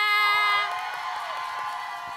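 A studio audience at a Korean music show featuring a girl group cheers and whoops loudly, with high excited voices ringing out together, then settling into a sustained crowd roar.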